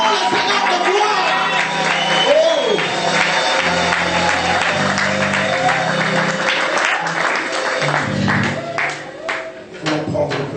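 A congregation at a worship gathering clapping and cheering loudly, a sustained roar of applause and shouts with music playing underneath and voices mixed into the crowd noise.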